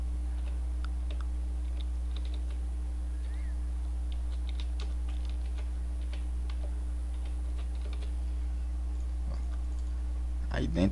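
Light clicking keystrokes on a computer keyboard while typing a folder name, soft irregular taps over a steady low electrical hum, with a louder bump at the end.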